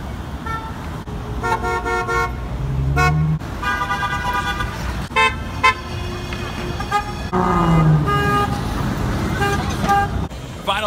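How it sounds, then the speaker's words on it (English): Passing cars and trucks honk repeatedly at a roadside cookie fundraiser, a series of short and longer horn blasts in quick succession over steady traffic rumble, with voices faintly in the background. "We've gotten dozens of honks"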